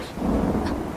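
Thunder rumbles through a stormy sound effect in a Hindi horror audio drama, a loud sustained low roll with a brief brighter crack partway through, heard alone with no voices over it.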